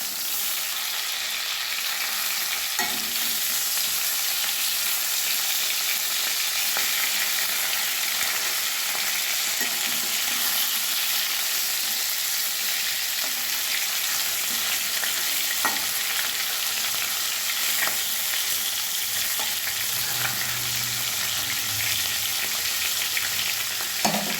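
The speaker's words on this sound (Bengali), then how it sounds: "এবারে মাছগুলো ভাজা হয়ে গেছে, আমি তুলে নেব।" Shol and foli fish sizzle steadily in hot oil in a pan, a dense continuous crackle close up with occasional stirring scrapes and pops, no talk.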